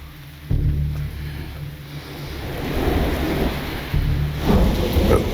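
Heavy rain pours steadily while low thunder rumbles and rolls beneath it, swelling in two loud surges, with no voices over the storm.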